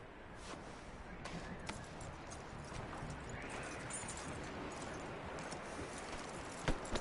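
Faint horse hooves clip-clop in a steady walking rhythm under a quiet background hiss, in the video game Red Dead Redemption 2.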